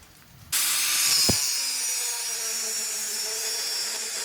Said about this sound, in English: I grinded as much as I could